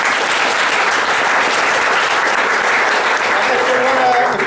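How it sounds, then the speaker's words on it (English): Loud, dense applause from a crowd at a LoRa radio technology talk, a continuous roar of clapping that holds steady throughout, with faint voices mixed in near the end. "round of applause Yeah. for Wienke."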